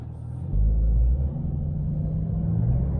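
A Porsche 992 Carrera 2, about 300 horsepower, running in sport mode with backfires. A loud, deep engine rumble swells into a heavy burst near the start, then settles into a steady drone.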